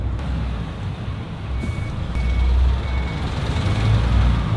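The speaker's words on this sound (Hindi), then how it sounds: "बैक गियर भाई, बैक गियर, बैक लगाने का हमको पहले ही ज्यादा मालूम नहीं है।" A Volvo truck engine rumbles low and loud while a faint, high reversing beep repeats at a slow steady pace in the background.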